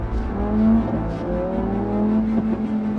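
Lamborghini Huracán Sterrato in rally mode accelerating hard, the engine note climbing through revs with a brief shift dip, loud and close with a rough rumbling edge.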